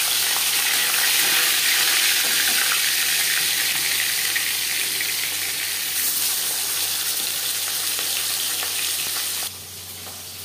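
Fish coated in turmeric and salt fries in hot refined oil for a vegetable fish curry, with a loud, steady, crackling sizzle throughout that eases slightly near the end.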